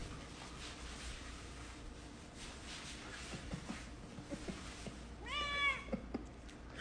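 One cat gives a rising meow late on, over faint indoor rustling and soft shuffling noises, with no talking.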